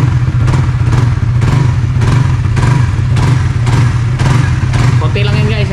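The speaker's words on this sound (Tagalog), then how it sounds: "Guys, ganda ng tunog ng ating muffler." A Suzuki Raider FI 150 motorcycle revs through its muffler, a loud, steady, close engine drone with repeated throttle blips pulsing about once a second.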